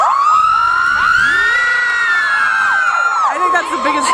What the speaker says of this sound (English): I think that's the biggest scream yet this panel